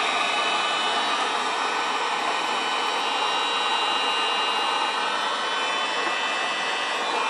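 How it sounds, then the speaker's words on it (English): A Wagner two-setting heat gun made for softening paint, running as a steady, loud, close airy roar with a whining hiss that holds constant throughout, with no talk. "2-setting heat gun meant for softening up paint."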